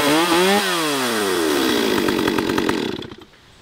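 A gas-powered chainsaw with a 16-inch bar starts up, engine pitch sweeping as it catches, then settles into a loud, steady buzzing idle before cutting off near the end.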